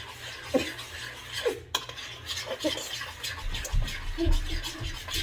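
A spoon scrapes and clinks against a bowl while stirring sweet potato pie filling, with irregular close-up strokes and taps that grow busier toward the end.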